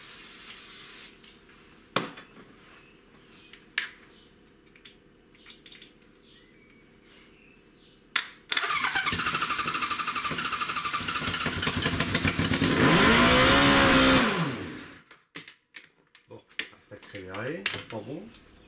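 Small clicks and taps, then a 1100 motorcycle engine abruptly roars to life and revs loudly for several seconds before cutting off, followed by rattling sounds.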